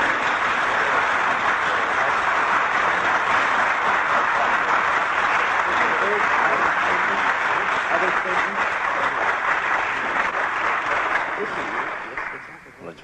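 A large audience at a 1970s gathering in Kathmandu, Nepal, claps in dense, sustained applause with cheering that holds steady before trailing off near the end.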